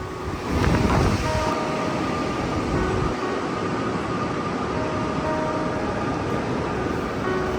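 A metro train rumbles through a quiet Doha metro station at night, a loud steady whirring drone with a brief surge at the start and faint tonal hums over the top.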